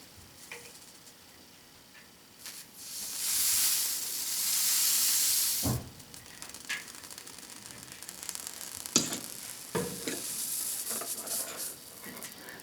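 Flux sizzling and steaming off a clamped, cleaned galvanized steel joint during soldering, a broad steady hiss swelling for a few seconds, then fading into scattered ticks and crackles as the metal cools.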